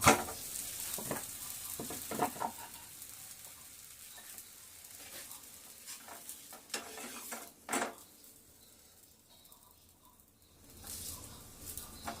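Aloo paratha fries quietly in a pan with a soft, steady sizzle, broken by occasional brief clinks and scrapes of cookware.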